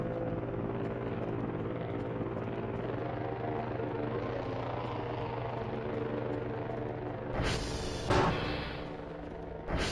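A drone delivering supplies drones on with a steady low rotor hum like a helicopter, continuous and fairly loud, with a couple of brief sharp noise bursts toward the end.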